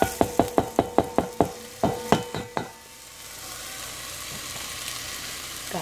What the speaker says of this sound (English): Got the sizzle.